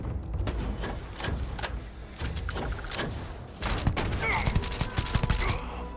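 Burst-fire SMG shooting in the video game Starfield, with rapid clustered volleys of shots crackling in repeated bursts, growing louder and denser toward the end over game ambience.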